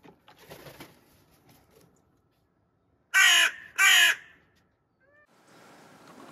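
A crow caws twice on a home terrace, two loud harsh calls close together and near, separated from faint earlier and later bird calls by quiet gaps.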